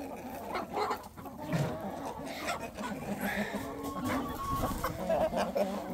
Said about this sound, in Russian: Так, два петуха уже я вижу здесь.